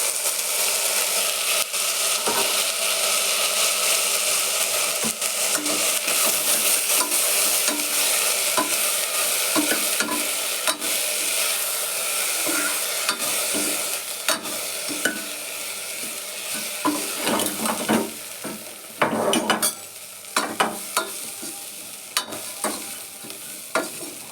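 Sprouted horse gram, field beans, toor dal, sambar powder, chilli powder and salt stirred into a sizzling tempering in a clay pot, a steady loud fry hiss broken by scraping stirs that grow busier toward the end, with no talk.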